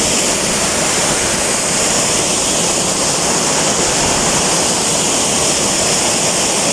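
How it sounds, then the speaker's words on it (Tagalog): Gethsemane Falls, a waterfall, roars with a steady, loud, dense rush of water that holds unbroken and close throughout. "grabe kahilog yung tubig diri oh"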